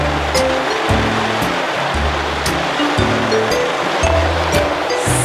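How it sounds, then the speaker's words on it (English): Heavy rain pours down steadily in a wet parking area, a dense, continuous hiss close by, with low rumbling tones beneath it. "and it's pouring rain."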